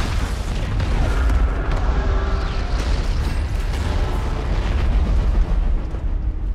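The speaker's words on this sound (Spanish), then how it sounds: "desatando toda una ola de tiroteos que provocan que haya una explosión en los aviones" Planes exploding in the disaster movie Greenland, a loud sustained roar of blasts and rumbling debris filling the whole stretch without speech.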